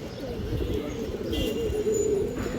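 Breeder pigeons in a loft, among them a male at its nest, give a continuous low cooing drone with occasional faint chirps in the background.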